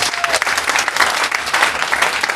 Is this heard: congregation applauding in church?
yes